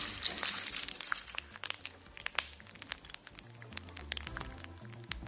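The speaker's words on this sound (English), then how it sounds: "Indeed, it is snap, crackle and pop. It's Rice Krispies." Rice Krispies cereal snaps, crackles and pops up close, a dense spray of tiny crisp clicks and crackles running on for several seconds, with no talk.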